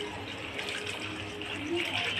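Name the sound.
water poured into a vessel to wash leafy vegetables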